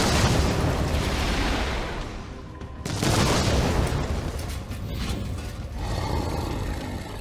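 Loud, continuous roaring blasts of missile explosions in the video game Chaos Gate, booming one over another with a short lull midway, no voices.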